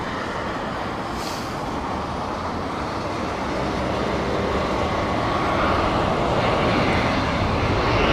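Aircraft engine roar at Heathrow Airport in stormy conditions, a loud, continuous broadband rumble that swells slightly toward the end, with wind-like noise and no speech.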